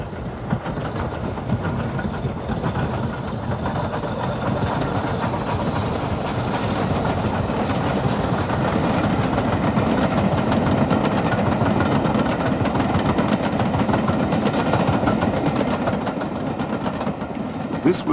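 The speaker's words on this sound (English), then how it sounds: "The final 9F, also preserved directly out of service, is Evening Star, seen here on an excursion from Scarborough to York." BR 9F steam locomotive Evening Star, the last steam engine built for British Railways at Swindon in 1960, hauls an excursion train from Scarborough to York, giving a continuous rumbling roar with rail clatter throughout.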